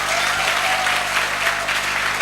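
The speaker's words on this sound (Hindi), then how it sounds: "तालियां थोड़ी कम लग रही हैं।" Steady applause from an audience at a Safe Shop business leaders' gathering, a dense continuous patter of clapping that holds at an even level throughout, with no voices standing out.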